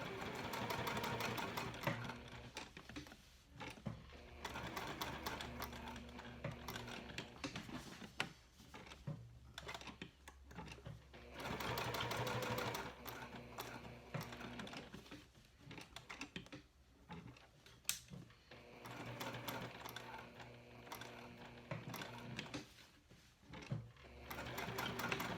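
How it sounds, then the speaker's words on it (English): Sewing machine stitching a tag onto a cork clutch panel, running in steady rapid bursts with brief pauses between runs, close and fairly quiet. "Now I'm going to sew my tag down onto the main body"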